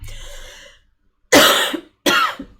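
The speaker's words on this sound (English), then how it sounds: "I don't know where that coughing's coming from." Two harsh, loud coughs close to the microphone after a brief fading voice, separated by a short silence.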